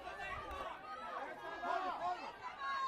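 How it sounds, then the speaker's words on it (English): Spectators at a boys varsity soccer match murmur and call out in displeasure at a referee's call, a faint, distant crowd babble that swells slightly toward the end. "You can hear the crowd not happy with the ref on that call"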